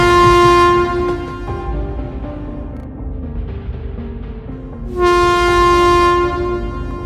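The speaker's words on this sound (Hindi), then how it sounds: "तभी अचानक ट्रेन रुक जाती है।" A train's horn blasts loud and close at the start, fades into a rumbling low hum of the train, then the horn sounds again near the end, the sound of a train coming to a sudden stop.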